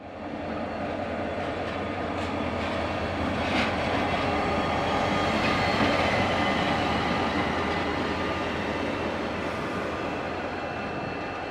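KiwiRail DFB 7145 diesel locomotive arriving with train 1608 to Masterton, a loud, continuous engine rumble and rolling rail noise that swells toward the middle and holds steady.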